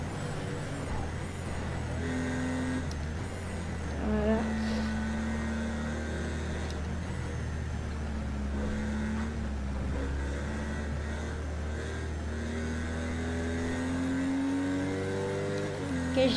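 A race car engine roars steadily in Project Cars 2 on the Nürburgring, its pitch rising and falling through gear changes over a continuous drone, with no talking.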